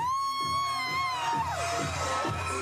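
A nightclub crowd at a Girl Power party cheers and shouts for the DJ, a loud steady roar of voices over thumping beats and swooping high tones, with no distinct speech.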